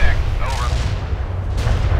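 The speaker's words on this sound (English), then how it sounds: "Perfect artillery hit." Artillery strike explosions in World in Conflict, a dense run of heavy booms and rumbling impacts, loud and close, overlapping with talking.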